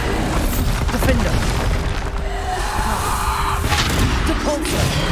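A Bombarda spell explodes in the Hogwarts Legacy video game, with a loud, dense booming burst and whooshing debris over constant game noise, with a voice speaking over the action.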